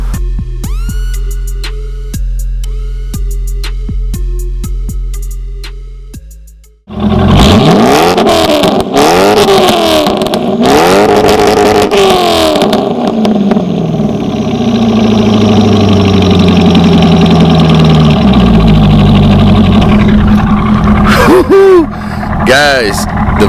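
A Corvette with a modified aftermarket exhaust starts up with a loud crack, then revs hard several times before settling into a deep, rumbling idle close by, with music playing at the start.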